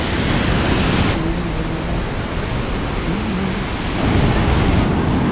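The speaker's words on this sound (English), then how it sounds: "The sound of this water is so high" The Rhine Falls at Schaffhausen, Switzerland, Europe's largest waterfall, roar as a dense, unbroken wash of rushing water heard up close, loud and steady throughout.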